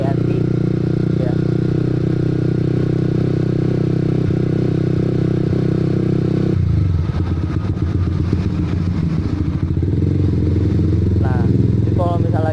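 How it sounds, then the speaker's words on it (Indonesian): Honda CB150R with a Pro Liner TR-1 long carbon exhaust at low RPM, a deep, soft steady idle close up that grows rougher and louder partway through, with someone speaking over it. "Nah, jadi kalau misalnya lagi di RPM rendah nih suaranya enak, empuk gitu kan ya."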